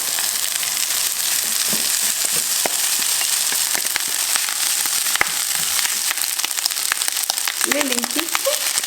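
Boiled rice sizzling and crackling steadily in a hot pan with golden, softened onion slices and balsamic, a dense continuous fry with brief spatters and a faint voice near the end.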